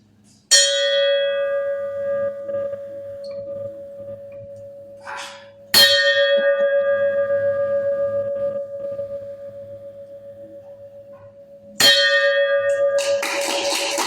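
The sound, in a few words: bell rung three times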